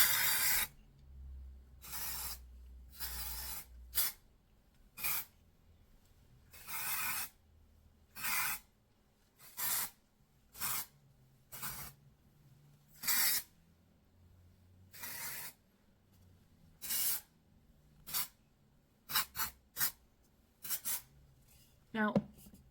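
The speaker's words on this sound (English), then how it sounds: "So we are going to use some dry shampoo." Batiste dry shampoo sprayed onto hair in a salon, a series of short sharp aerosol hisses in quick bursts, each lasting about a second, loud and close with quiet gaps between.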